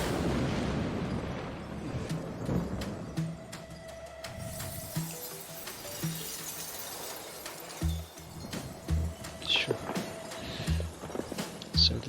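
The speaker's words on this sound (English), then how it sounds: "There were rumblings at a distance followed by explosions and thunderous echoes of collapsing buildings." Rumbling explosions and the thunderous crash of collapsing buildings in the Honkai Impact 3rd story chapter Thunders Over Nagazora, heavy low booms and shattering impacts rolling through a dense, continuous din with no talking.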